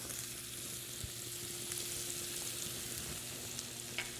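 Pork loin sizzles in butter in a pan, a steady close frying hiss that runs without a break, with a few faint stirring knocks and no voices.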